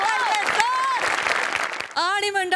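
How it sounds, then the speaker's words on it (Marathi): A studio audience at a Marathi comedy show claps loudly, a dense wash of clapping that runs under a clear, carrying voice speaking over it. "जोरदार टाळ्या"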